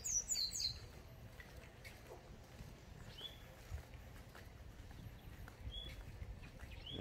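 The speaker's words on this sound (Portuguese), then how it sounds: "cantando aqui um golinho" A caged golinho, or white-throated seedeater, sings in short, faint, high chirps and whistled notes scattered over a quiet outdoor background of low rumble.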